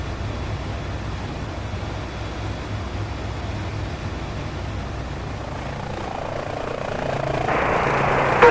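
H145 helicopter in Microsoft Flight Simulator during a mountain medevac flight, a steady low rotor and turbine drone that holds evenly throughout, then grows louder near the end as a higher whine rises.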